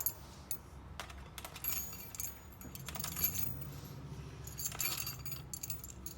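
Metal keys jangle and clink repeatedly while being sorted and handled, close and crisp, in bursts of rattling with brief pauses.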